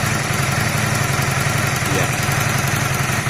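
A Honda CB250 cafe racer motorcycle idling close by, a loud, steady, fast-pulsing engine chug that holds an even rhythm throughout, with a brief spoken word over it.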